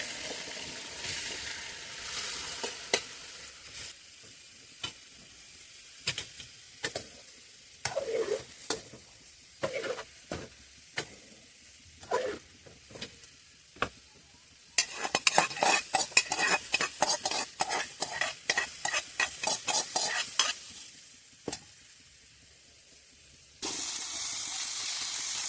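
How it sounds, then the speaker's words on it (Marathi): Chicken coated in turmeric frying in a pan, with steady sizzle broken by repeated scraping, stirring and clinks of a utensil against metal, busiest in the middle stretch before a steady hiss returns at the end. "मी ते चिकनला आधी हळद लावून इथं फ्राय करत आहे"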